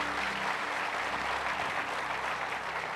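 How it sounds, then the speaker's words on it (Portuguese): A church congregation applauds in a steady, even burst of clapping that fills the room, continuous and moderately loud for the whole stretch. "Dá um aplauso a Jesus."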